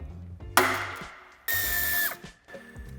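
A power tool whirs in two bursts while removing a screw from the bumper of a 2022 Alfa Romeo Tonale, the second burst longer and winding down, with quieter clicks and handling noises between.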